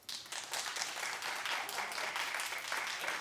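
A studio audience on a talk show claps on cue, a soft but steady burst of clapping with a few scattered voices underneath.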